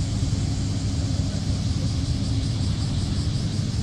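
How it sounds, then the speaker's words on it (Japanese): A lowered shakotan car rolls toward the listener at an all-genre car meet at Trial Park Kambara. Its engine gives a steady low rumble inside a constant wash of outdoor noise. "なんか向こうからなんかシャコタン車両来た。"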